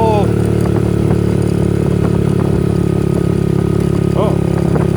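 A vehicle engine lugs under heavy load while cresting a hill, a loud, constant low drone with a steady rumble that fills the whole stretch.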